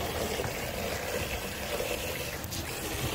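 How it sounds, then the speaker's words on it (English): A water pump drains a pool with a continuous, moderately loud rush and gurgle of flowing water, steady and close with slight fluctuations. "So it's working really well. Draining off the whole entire water from here."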